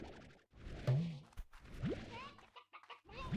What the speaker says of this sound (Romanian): am mai crescut un cocoș